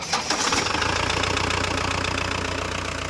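A car with an ABS warning light fault cranks briefly, then its engine catches and settles into a steady, loud, even idle rumble that continues to the end.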